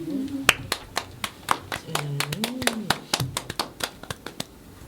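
Scattered hand claps from a small group, irregular and sharp, with voices talking over them partway through.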